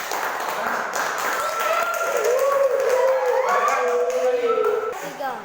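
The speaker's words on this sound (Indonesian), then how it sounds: "Kasih tepuk tangan dulu." Classroom applause from primary-school children clapping for their group after a presentation, a steady crowd of claps lasting several seconds, with children's voices and chatter mixed in throughout.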